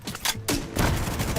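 Video game gunfire from The Division 2, a dense burst of rapid shots rolling together into a loud, continuous fusillade with brief gaps.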